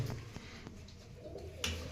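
Long-bodied flying pigeons coo softly nearby in low, repeated murmurs across a short stretch, faint and alone.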